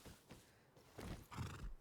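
A horse in the video game Rust neighs in a few whinnying bursts, the loudest and longest near the end, with no talking.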